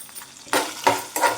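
Pieces of ivy gourd (dondakaya) sizzle in a pan as they fry, with three quick bursts of stirring or scraping spaced through a soft crackle, close by and with no talk.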